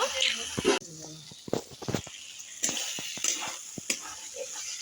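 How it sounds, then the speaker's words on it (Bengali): Spice paste loosened with a little water and Kashmiri chilli powder is stir-fried for a Bhetki fish-bone chochchori, giving a soft sizzle with scraping stirs scattered throughout, heard close up while a person talks over it. "আর এর মধ্যে একটু জল দিয়ে মশলাটা আর একটু ভালো করে কষিয়ে নেব।"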